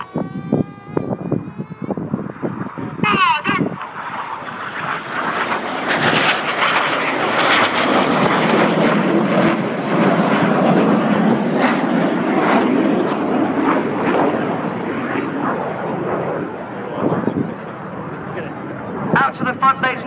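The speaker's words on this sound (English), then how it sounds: "They're closing at 800 miles an hour again for the opposition barrel roll." Synchro pair of display jets closing head-on for an opposition barrel roll at an air show, a roaring engine rush that swells and holds loudly, with a commentator talking over it throughout.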